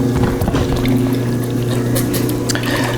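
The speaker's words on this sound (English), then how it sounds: "We have the potter's wheel." A potter's wheel spinning in a ceramics studio, carrying a ball of about 1.5 pounds of wedged clay, gives a loud, steady, continuous wet whirring hum with splashy, watery textures throughout, with no voices.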